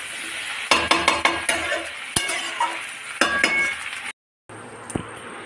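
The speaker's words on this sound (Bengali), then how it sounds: "এটা একদম আস্তে আস্তে হালকা হাতে সুন্দরভাবে এরকম নাড়িয়ে নাড়িয়ে কষাতে হবে" Jackfruit being stirred and sautéed gently in a pan, close, with repeated clinks of a utensil against the pan in a loose rhythm over a soft sizzle, then a brief pause before more light scraping.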